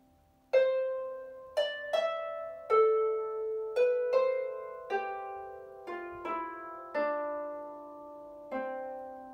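The last two bars of the traditional tune Rory Dall's Port ring out as about a dozen clear plucked notes, each decaying slowly, played at a slow, even pace and alone.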